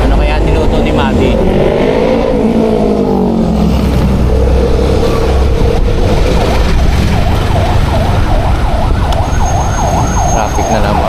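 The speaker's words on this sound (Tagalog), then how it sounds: "Traffic na naman." Road traffic rumbles loudly as engines drone and rise and fall in pitch, while a siren wails in repeated cycles through the latter half of the stretch.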